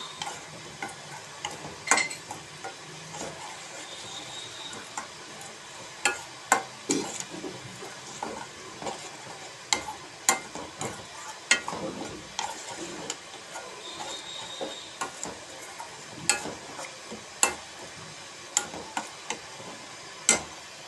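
Masala for sprouted moth bean curry sizzles in a hot pan while a spoon scrapes and clicks against it in an irregular stirring rhythm, close up.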